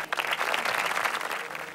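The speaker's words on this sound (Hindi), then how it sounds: "बहुत अच्छा, तालियां होनी चाहिए" A TV studio audience at a Ramadan iftar quiz show claps after a correct answer, a brief dense burst of applause that swells and holds steadily, close and full, with no voices on top.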